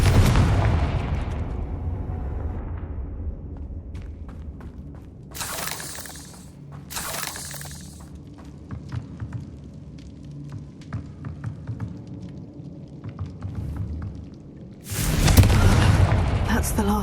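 Fire spell explosions in the video game Hogwarts Legacy: a deep boom at the start decays slowly, then sharp bursts and shattering crashes follow at intervals, with a loud blast near the end.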